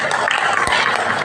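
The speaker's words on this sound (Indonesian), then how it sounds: "Tepuk tangan buat teman-teman." Applause from an audience at an Indonesian Chinese-clan community gathering, a dense steady wash of many hands clapping at once, loud and close, filling the whole moment with no pause.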